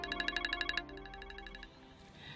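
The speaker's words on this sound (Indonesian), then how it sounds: "Den Kenzo telepon Neng sebentar ya" A phone rings with an incoming call, a bright electronic ringtone pattern of quick repeated tones that softens midway and then cuts off, fairly quiet in a room.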